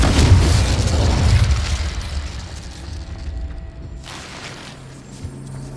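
A Confringo blasting spell explodes in Hogwarts Legacy: a loud, deep booming blast that slowly fades into rumble, followed by a second, softer burst near the end.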